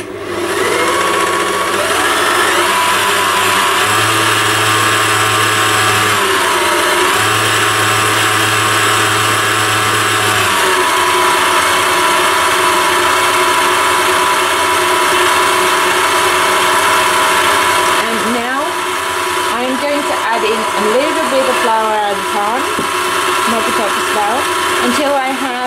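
An electric whisk churns gingerbread cookie dough in a home kitchen, a steady loud motor whine that changes pitch and load partway through, with a voice talking over it.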